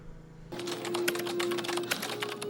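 Rapid, uneven computer keyboard typing from the movie Spiders, a dense run of close clicky keystrokes starting abruptly and continuing steadily over a low electronic hum.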